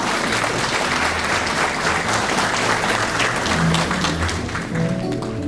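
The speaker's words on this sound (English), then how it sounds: "Let's give our beautiful members a round of applause." Audience at a debutante ball breaks into sustained applause, a dense, steady wash of many hands clapping at full volume throughout, with faint crowd murmur underneath.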